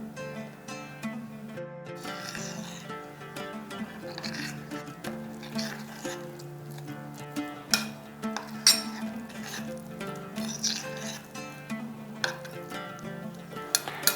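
Spiced eggplant, coated with Kashmiri red chilli powder, gram flour and ginger paste, is stirred in a bowl, giving soft, irregular clinks and scrapes at close range with no talking.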